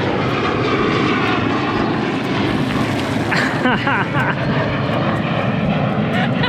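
A loud, steady aircraft engine roar fills the scene continuously, with voices talking underneath the heavy rumble.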